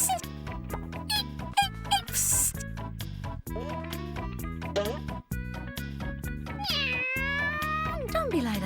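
A cartoon cat meows several times, with rising and falling cries, over a steady musical backing.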